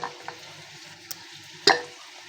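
Chicken karahi frying in a pan as it is stirred, with a soft continuous sizzle under a few scrapes and knocks of the utensil, capped by one loud clattering scrape near the end.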